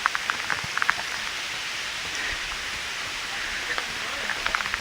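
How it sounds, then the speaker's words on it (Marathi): Heavy rain falls steadily throughout a trek up Jivdhan Fort in Maharashtra, a dense broadband hiss with a few sharper drop hits near the start and end. "पाऊस एकदम बेकार पडतोय पाऊस"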